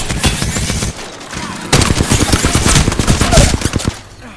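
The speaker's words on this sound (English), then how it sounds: "I am taking fire, friends." Rapid bursts of automatic gunfire in an online PS4 battle-royale shooter, loud and close, a short volley followed by a longer sustained stream of shots.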